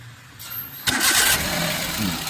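A Suzuki Alto 800 car engine with a noisy water pump cranks and catches, jumping to a loud rev before settling into a steady idle nearby.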